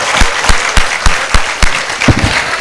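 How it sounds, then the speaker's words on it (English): Large crowd of university students rising to applaud the Vice Chancellor at a gold medal ceremony, loud, steady clapping with regular sharp bursts running throughout. "please stand up and give a big applause to our Honorable Vice Chancellor"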